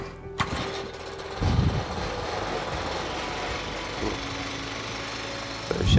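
A homemade garden vehicle powered by a small chainsaw engine starts and runs with a loud, rough, buzzing two-stroke drone, close by, with a few heavier knocks and revs along the way.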